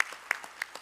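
Audience applause at a conference of African finance ministers, a thin scattering of claps with a few sharper individual hits, moderately near and fairly quiet.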